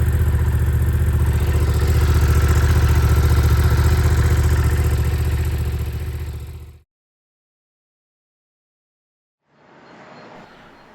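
A recovered KTM Duke motorcycle with a broken steering lock idles with a loud, steady engine rumble, then cuts out abruptly. After a few seconds of silence a softer rumble returns.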